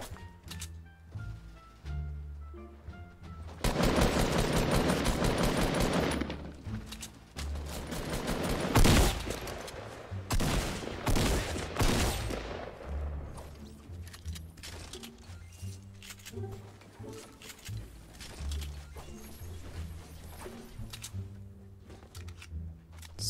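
Gunfire in a shooter video game, with a loud burst of rapid shots early on, then scattered cracks, clatter and lighter bursts over several seconds, fairly close.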